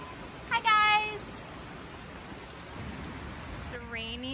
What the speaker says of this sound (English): It's a rainy day on the farm